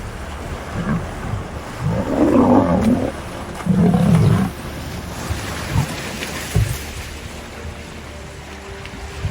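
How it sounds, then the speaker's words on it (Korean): A lion gives two deep, rumbling roars in quick succession over a constant hiss resembling rain. "사자는 밀림의 왕이잖아요."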